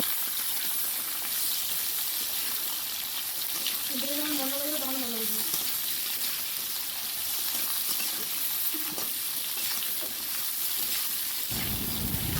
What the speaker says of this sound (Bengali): এই যে কড়াতে তেল দিয়ে জিরা ফোড়ন দিয়ে ডাটা আলু দিয়ে দিলাম।